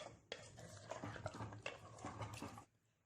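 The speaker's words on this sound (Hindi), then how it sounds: "दही को गोश्त के साथ मिक्स कर लें।" Yogurt stirred into meat in a pot, a spoon scraping and squelching through the thick mixture in several uneven strokes over about three seconds, close and fairly quiet with no talk.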